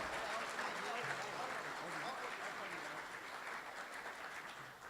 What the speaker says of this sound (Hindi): जोरदार तालियों के साथ मुझे विदा कीजिए